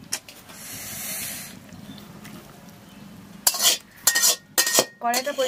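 Metal spoon scraping and clattering inside a kadai (wok) after curry cooking, with several sharp scrapes and knocks close by in the second half, following a soft hiss.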